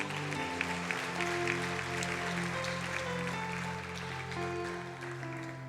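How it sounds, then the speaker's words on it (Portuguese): A church congregation claps together, a moderate, steady patter of applause layered over sustained organ or keyboard tones that carry underneath throughout. "Você pode dar uma salva de palmas ao Senhor."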